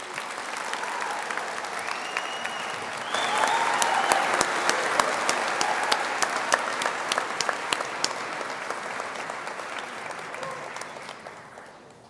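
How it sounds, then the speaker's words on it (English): A large graduation ceremony audience applauds steadily for several seconds, swelling slightly before tapering off toward the end, with scattered sharp claps standing out. "please, everyone join me in a resounding applause and congratulations to the 2019 graduates"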